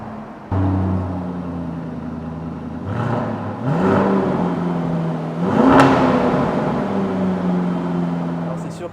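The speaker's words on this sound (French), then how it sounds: "Il suffit de soulever la petite gâchette et d'appuyer sur le bouton Stop Start pour allumer" A Lamborghini Urus SUV's V8 engine fires up with a sudden start, then settles into a deep idle broken by a couple of sharp revving blips, heard close by while a person talks over it.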